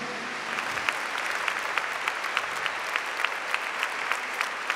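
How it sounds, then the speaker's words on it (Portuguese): A church congregation at a Catholic Mass applauds the mothers, the clapping falling into a steady rhythmic beat that carries evenly and moderately loud for several seconds. "Vamos aplaudir as nossas mães?"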